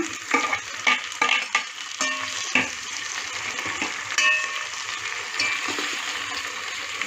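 Tomatoes and green chillies fry in a pan for coconut rice, with a few sharp clattering stirs early on over a moderate, continuous sizzle that settles into steady frying.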